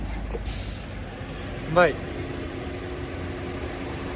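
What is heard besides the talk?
Hyundai Sonata gas engine running at idle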